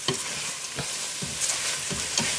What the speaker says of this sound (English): We'll give that another quick stir